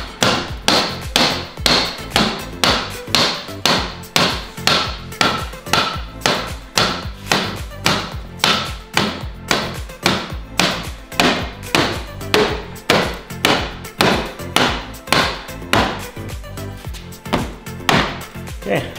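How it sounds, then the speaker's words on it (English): A 32-ounce rubber mallet thuds steadily on a snowmobile slider, dozens of even, dull blows in a regular rhythm with no talking. "I'm using a rubber mallet."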